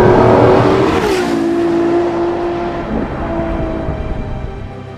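A 2014 Ferrari LaFerrari running, its engine a loud, close, continuous roar with a falling then steady pitch, heard from inside the car without talk.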